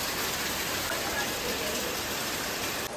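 Rain falls steadily outdoors, a constant even hiss of drops with no breaks, moderately loud and unbroken by any clear voice.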